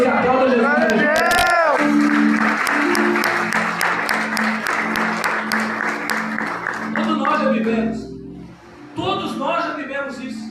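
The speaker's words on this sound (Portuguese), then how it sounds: "dá glória a Deus e aplauda Jesus" A church congregation breaks into loud, sustained applause and cheering in praise to Jesus, with sustained musical tones and voices mixed in, the clapping fading after about eight seconds and then returning more faintly.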